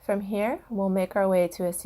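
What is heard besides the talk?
No distinct noise like a dog, phone or traffic.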